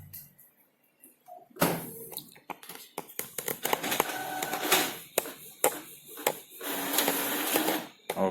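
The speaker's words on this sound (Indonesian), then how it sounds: "saya akan coba print" A printer runs right after a key press, starting with a short mechanical whir and then a loud, busy run of feeding clacks and rolling motor bursts that lasts several seconds, with a brief voice near the start.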